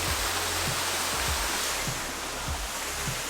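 A waterfall in Shenandoah National Park pours in a dense, unbroken roar of rushing water, with low thumps of footsteps or handling underneath.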